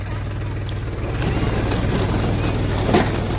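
A tractor engine pulling an onion planting machine drones on in a steady low rumble, growing slightly louder partway through, with a faint thump near the end.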